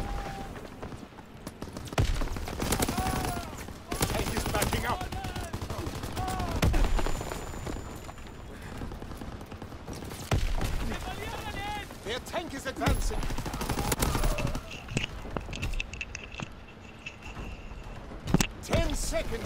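Gunfire aimed at infantry near a tank in a shooter video game crackles in repeated bursts and rapid volleys, mixed with other game effects and thuds, while a player talks over parts of it.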